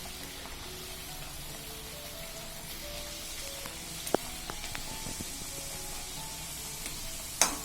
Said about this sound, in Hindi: आप चाहें तो एक एक पूड़ियाँ तल सकते हैं और दो दो भी डाल के भी तल सकते हैं।